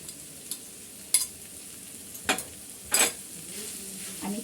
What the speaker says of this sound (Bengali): চিকেনের সাথে ভালো করে মিক্স করে নিচ্ছি